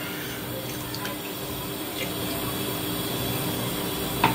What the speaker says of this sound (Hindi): इसमें मैं ऑयल ऐड कर दूंगी 1 कप।